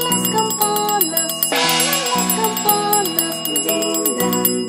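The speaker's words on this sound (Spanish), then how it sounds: "Suenan las campanas" Bells chime in a bright, resonant melody from a children's nursery rhyme, one struck note after another with ringing overtones under a steady musical backing, close and loud, with no talk.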